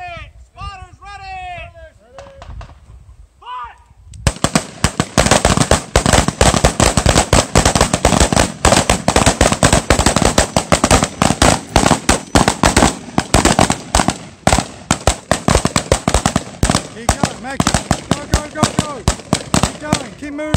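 Rapid carbine fire during a defensive shooting drill at a Florida firearms training range, dense bursts of many loud shots from several shooters after a few seconds of shouted commands, with voices calling out between volleys.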